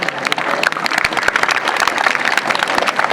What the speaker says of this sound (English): Please have a huge round of applause for our participants.